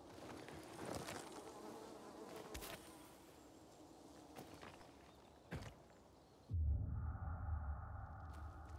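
Bees buzz in the Dying Light 2 Stay Human video game, a faint, steady insect drone under game ambience with scattered footsteps and clicks, then a louder, closer low hum takes over near the end.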